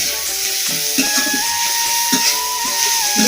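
Bitter greens and onion stirred in a hot pan, a steady close sizzle and hiss with soft spatula scrapes and a faint whistling tone, no talking.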